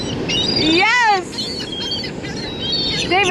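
Birds are fed bread outdoors, bright chirps and calls close by, overlapping with whooping, swooping human vocal sounds.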